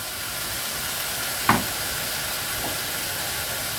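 Ground spices hit a hot pan with softened onion mixture for rogan josh, a steady close frying hiss with one sharp clink of a utensil partway through.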